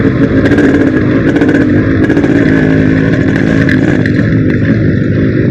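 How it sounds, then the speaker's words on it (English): Loud, continuous thumping engine rumble with rhythmic pulsing and some clatter, close by, a single old Yamaha RX two-stroke motorcycle idling and lightly revving. "The engine is so old school, but the thumping sound is like wow."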